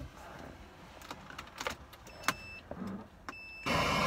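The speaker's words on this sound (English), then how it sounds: "So we're gonna turn on the car." An older car with a factory radio is started: keys jingle and clicks sound before the engine catches near the end with a loud, steady rumble.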